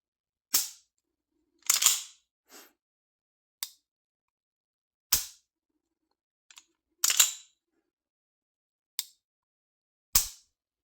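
Trigger of a Fusion Firearms XP Pro pistol being pulled and reset on a dry, unloaded gun, giving sharp, close mechanical clicks in irregular pairs and singles spread across several seconds, with quiet gaps between them.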